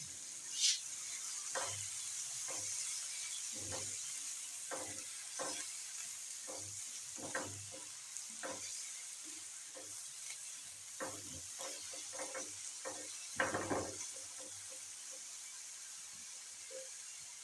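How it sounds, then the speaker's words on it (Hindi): Finely chopped onions fry in hot ghee with a steady, close crackling sizzle, dotted with soft stirring clicks and scrapes throughout. "यहाँ पे मैंने थोड़ा सा घी गर्म किया है, उसके अंदर डालेंगे प्याज।"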